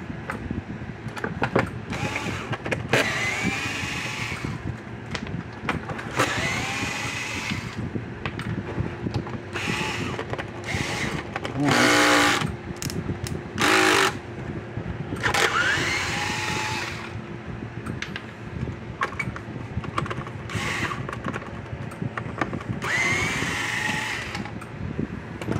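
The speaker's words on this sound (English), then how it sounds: "let's get the screws out of this thing" Screws are worked out of a Zareba Red Snap'r electric fence charger with a whirring, ratcheting power driver in repeated bursts of several seconds, close and mechanical over a background hum.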